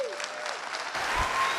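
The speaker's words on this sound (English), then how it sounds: "Please, no applause." Applause breaks out in a room at a zoning board of appeals meeting, a short burst of steady clapping from a gathered audience that carries on, swelling slightly toward the end.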